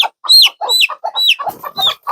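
Chickens clucking in a farmyard, with mother hens and a rooster nearby, giving loud, close, rapid bursts of squawks and clucks in quick, uneven succession.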